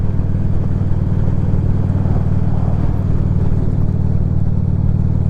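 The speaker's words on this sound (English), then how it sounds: "So here I am, out here enjoying my motor scooter." A loud, steady motor scooter engine drones at constant speed with a low rumbling hum, heard up close as if riding along in cold weather.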